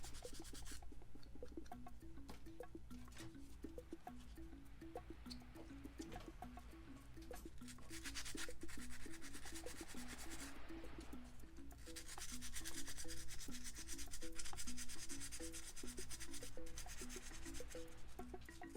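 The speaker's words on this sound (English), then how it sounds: "as I sand, I am able to tell that the board edges are getting smoother" Repeated rhythmic rubbing and scraping strokes of sandpaper against a Wii circuit board edge, steady back-and-forth motion, close and fairly quiet with no speech.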